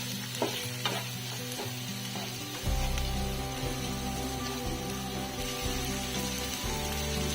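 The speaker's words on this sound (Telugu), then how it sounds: "ఇప్పుడు నేను టమాటా పీసెస్ యాడ్ చేసుకుంటున్నాను. ఇవి బాగా ఫ్రై అవ్వాలి." Tomato pieces fry with onions in a pan for an egg curry, giving a steady close sizzle with a louder burst as they go in, plus scraping stirs and small clinks throughout.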